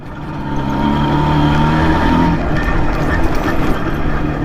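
An IZh Jupiter motorcycle with a straight-cut gear primary drive whines steadily as the engine revs, a loud, close, continuous engine drone with a sustained gear hum and no voices.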